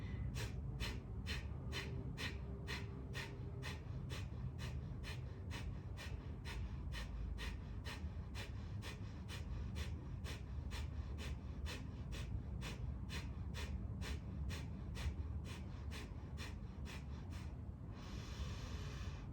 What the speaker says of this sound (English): breath of fire round, exhaling sharply